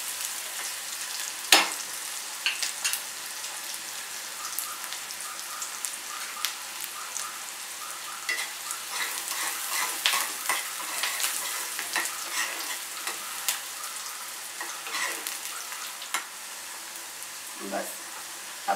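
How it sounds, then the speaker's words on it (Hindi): Steady sizzling of onions and green chillies frying in a pan, a continuous crackle with occasional louder pops and stirring clicks, no talking. "प्याज को थोड़ा ट्रांसपेरेंट होने तक भूनते हैं।"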